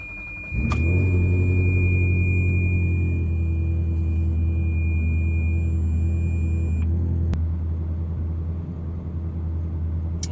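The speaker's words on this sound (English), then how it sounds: "I've just started the car" A Ferrari 360 engine idles steadily after starting, a deep loud rumble with a brief rev at the start, then a constant low drone.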